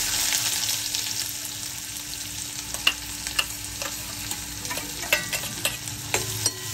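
Finely chopped onion fries in a pan with mustard seeds and asafoetida, a constant close sizzle broken by scattered sharp pops and clicks of a stirring utensil.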